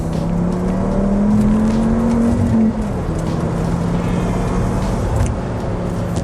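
A Volvo C30 T5's five-cylinder turbo engine, with a catless downpipe, pulls hard accelerating in second gear, its pitch rising steadily before a brief gear change, then droning on loud and close with wind and road noise.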